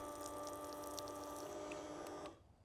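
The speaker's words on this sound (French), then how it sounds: "c'est parti pour une bonne douche chaude de 10 litres" A portable electric camping shower on its second speed setting sprays hot water in a steady, loud hiss that ends abruptly as the flow stops.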